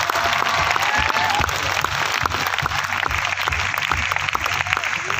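An audience at a business success talk on stage claps loudly and steadily, dense applause filling the whole stretch without a break.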